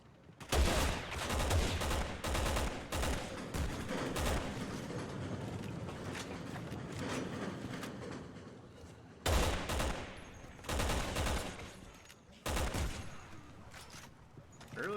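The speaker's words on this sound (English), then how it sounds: "someone's shooting at me" Gunfire in the Resident Evil 6 action game, a dense, loud fusillade of rapid shots and mechanical clatter in sustained bursts, with brief pauses between volleys and a voice faintly underneath.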